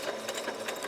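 A sewing machine stitching a fabric ruffle, a brief steady mechanical whir with quick repetitive needle pulses, close and fairly soft.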